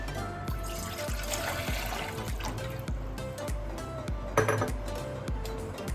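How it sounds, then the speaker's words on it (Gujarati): Water splashes and gurgles into a metal pot, with light clinks of the pot and a running tap sound throughout. "હવે એક આપણે તપેલું લેશું, એમાં છે ને આપણે પાણી એડ કરશું"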